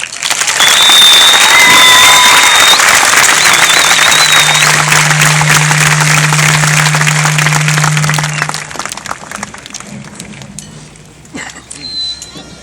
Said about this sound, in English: please join me in applauding all of the Robstown High School class of 2012 graduates in light of their success